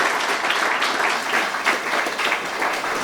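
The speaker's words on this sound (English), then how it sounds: "Round of applause." A crowd applauds steadily at an awards ceremony, a dense wash of clapping that holds at an even level throughout.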